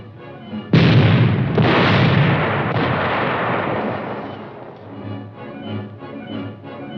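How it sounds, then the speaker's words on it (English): High-velocity 90mm guns on a 1957 US Army tank platoon firing, a loud booming blast followed by a second shot and a long rolling echo that slowly fades. "The tank platoon's primary armament consists of 5 high-velocity 90mm guns."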